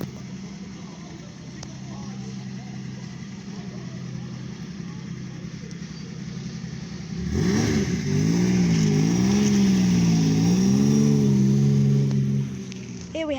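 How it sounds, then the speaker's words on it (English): A classic Ford Zephyr 6 pulls away at an outdoor classic car meet, its engine note rising and wavering loudly as it revs off, following a steadier idling stretch of engine and crowd background. "Here goes the Zephyr 6."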